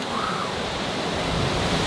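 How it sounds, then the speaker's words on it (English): Roaring waterfall in Lauterbrunnen, Switzerland, heard from directly beneath it: a loud, continuous broadband rush of falling water filling the whole stretch without letup. "we're right under the waterfall now."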